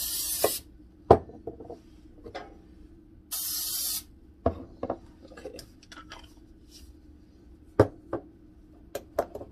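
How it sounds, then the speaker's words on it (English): Short hissing bursts of cooking spray onto mugs, two longer blasts among several quick ones, with light clinks of dishes and cutlery between them. "Spray the mugs with this spray."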